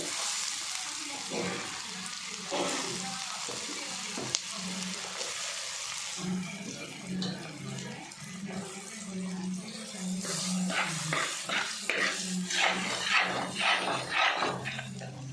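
Mango pieces for pickle fry in boiling hot oil with a loud, continuous sizzle and bubbling crackle that grows busier toward the end, while a voice talks over it.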